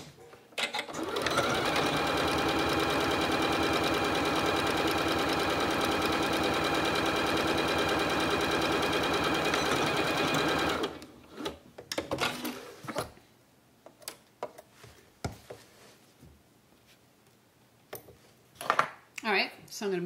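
A sewing machine stitches a zipper pouch in one steady, loud whirring run lasting about ten seconds, then stops, leaving quieter fabric handling and clicks.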